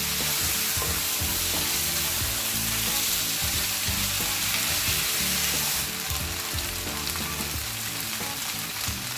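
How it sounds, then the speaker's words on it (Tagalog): Marinated pork sizzles and fries loudly in a hot pan as it is stir-fried, a dense continuous crackle with stirring scrapes under it and no talk. "at this point, we will add on our marinated pork. Okay? Then we'll just give it a mix"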